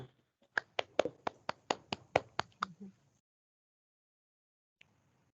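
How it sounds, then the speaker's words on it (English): Roughly ten sharp, evenly spaced claps from a small group of attendees at a Lions Club board meeting, quick and fairly close, ending abruptly after about three seconds and followed by quiet. "let's give a round of applause"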